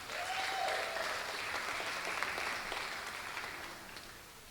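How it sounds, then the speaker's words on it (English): An audience applauds the Tiny Tots candidates at a Philippine Weekend pageant, a steady wash of clapping from a crowd that holds level and slowly thins toward the end, with a faint tonal sound early on. "let's give another round of applause to our kids tonight"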